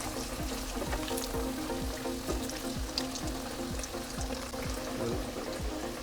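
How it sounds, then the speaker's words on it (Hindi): Coated chicken cheese bites fry in hot oil, a steady dense sizzle and bubbling that holds evenly throughout with no talk over it. "अभी हम इसको फ्राई करेंगे।"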